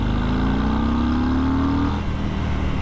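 A Harley-Davidson Breakout motorcycle pulls hard at full throttle in second gear, its engine note rising steadily for about two seconds before easing off into a lower, rumbling drone.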